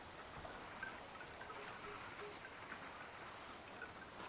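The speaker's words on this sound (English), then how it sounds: "it could also just be that it's raining" Rain falling steadily on a sailing boat, a dense even hiss of drops on the deck and water, soft and continuous with no voices.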